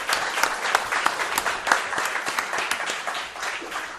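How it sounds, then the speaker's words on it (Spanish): Studio audience on a Spanish television program applauds two guests from Tenerife, a lively, steady clatter of many hands filling the whole few seconds. "Os pido un aplauso para estos dos señores que llegan de Tenerife a nuestro programa."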